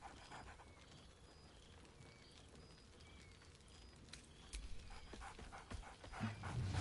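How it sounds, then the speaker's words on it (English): Scratch, a dog in a video game, gives lively barks and panting, with soft yips and whimpers that grow louder and busier toward the end over a quiet background. "Scratch barks merrily in something like agreement."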